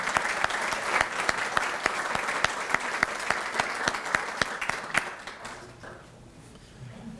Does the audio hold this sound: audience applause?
yes